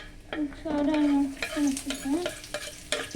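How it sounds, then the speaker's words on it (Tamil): Onion frying in a pan sizzles steadily at close range while a spatula stirs and scrapes, and tonal voice-like sounds or a squeaking utensil run over the top in short bursts. "இதை ஆனியன் போட்டு அதில் சேர்த்து நல்லா இப்போ ஃப்ரை பண்ணிக்கணும்."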